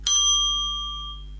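A small handbell used as a story prop rings once with a bright strike and a clear metallic tone that rings on and slowly fades, over a steady low hum.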